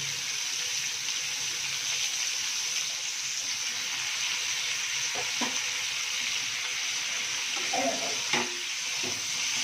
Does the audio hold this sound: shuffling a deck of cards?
no